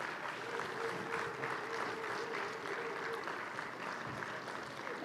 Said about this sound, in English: Give him a round of applause while he walks up